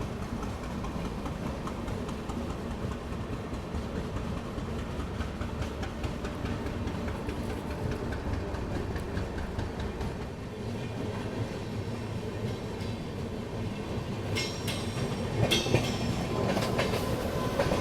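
Northeast Express passenger train running between Prayagraj and Patna, a steady continuous rumble of wheels and carriages with rhythmic clatter throughout, a few sharper rattles and knocks near the end.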